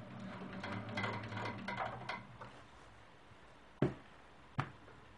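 A sewing machine stitches a quilt block, its needle running in a steady mechanical patter for about two seconds before stopping, followed by two sharp isolated clicks in a quiet room.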